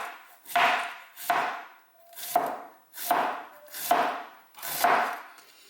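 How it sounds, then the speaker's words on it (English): A knife shreds cabbage finely on a board for sauerkraut, with six evenly spaced, crisp chopping strokes about a second apart, close and clear with no talking. "you want to cut this as fine as you possibly can"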